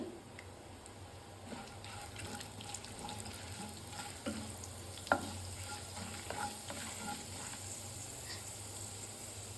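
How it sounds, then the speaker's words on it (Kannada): Mustard seeds, chana dal and urad dal crackle in hot oil in a pan, a soft steady sizzle with scattered pops and occasional stirring clinks, fairly quiet throughout. "ಈಗ ಎಣ್ಣೆ ಬಿಸಿ ಆಗಿದೆ. 1 ಟೇಬಲ್ ಸ್ಪೂನಷ್ಟು ಸಾಸಿವೆ ಹಾಕೋತಾ ಇದ್ದೀನಿ."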